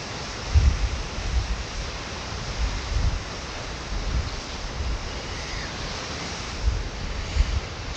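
Wind buffets a microphone at a beach as surf rolls in, a constant broad roar with irregular low gusts thumping at intervals, no voices.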